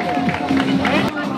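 Spectators at a cross-country race finish applauding and calling out encouragement, lively clapping mixed with shouts close by, a short loud burst.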